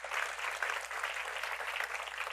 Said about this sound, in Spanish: Señor, te damos este fuerte aplauso.